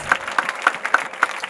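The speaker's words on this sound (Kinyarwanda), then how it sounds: "Muyikomera amashyi." A congregation at a Christian prayer service claps in a quick, rhythmic beat, with sharp distinct claps landing close and loud in an even pulse.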